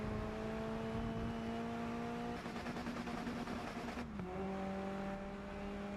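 A Lotus Elise engine in the racing game GRID Legends drones with a steady tonal whine, dropping and rising in pitch as gears shift.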